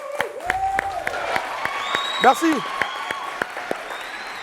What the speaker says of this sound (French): encore un maximum d'applaudissements